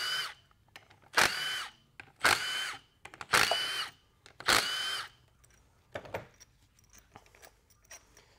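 A power tool zips out the pump bolts on a burnt-out 4L65E automatic transmission in a shop, with four loud, sharp whirring bursts of about a second each, then softer clicks and rattles.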